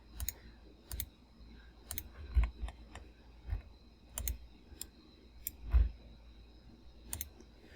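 Computer mouse clicking while working in Onshape CAD software: sparse, close, quiet single clicks at irregular intervals, about a dozen across the stretch, with no talking.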